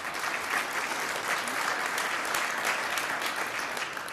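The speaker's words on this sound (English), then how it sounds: "Applause is great." Audience applause at a Toronto Police public event on missing persons, a dense, steady wash of many hands clapping that holds evenly for the whole stretch without voices over it.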